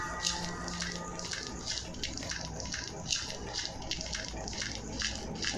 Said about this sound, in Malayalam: ഇതിനകത്ത് ഇനി വെള്ളം നിറച്ച് അവിടെ കൊണ്ട് വയ്ക്കണം